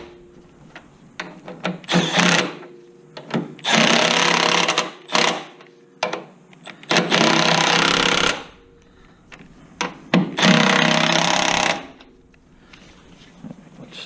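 A power tool tightens bolts on the front strut and upper control arm of a 2007-2011 Honda Accord, firing in several loud bursts of rapid rattling, each a second or two long, separated by short quiet gaps and small clicks.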